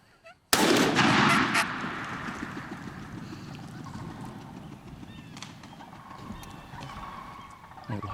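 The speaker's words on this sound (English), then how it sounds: "shoot him when you have a chance" A single loud shotgun blast at a wild turkey during a spring hunt on Michigan public land, a sharp report followed by a long fading rumble with faint bird calls in the background.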